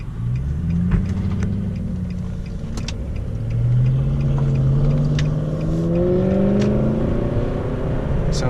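A Pontiac Trans Am engine revs hard while peeling out, its note sweeping up in pitch in repeated rising surges that stay loud and close, with no one talking over it.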